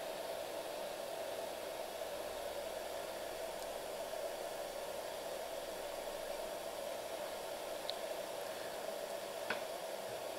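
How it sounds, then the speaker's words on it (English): A hair dryer runs steadily with a constant, faint whooshing hum and airflow hiss. No one speaks, and the sound is even throughout apart from a couple of tiny clicks. "you can see how much current my hairdryer draws"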